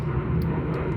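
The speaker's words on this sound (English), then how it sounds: "plane's going overhead" A fixed-wing airplane passes overhead near Bristol Airport, a loud, steady broadband engine roar that fills the whole clip with no talk.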